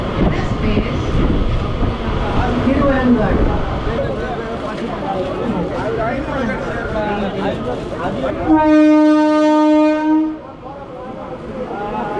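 Passenger train on the Tiruttani to Chennai Central line pulling into Manavur station, a steady rumble of wheels and carriages with voices over it, then one long, loud horn blast near the end.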